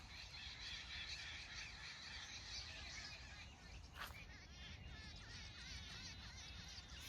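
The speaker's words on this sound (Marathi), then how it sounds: "ह्या साईडला खूप पक्षी आहेत बरं का" Birds call in the open near wheat fields, many small chirps and trills overlapping at a distance. They sit over a steady, loud wind-like rumble with no talk.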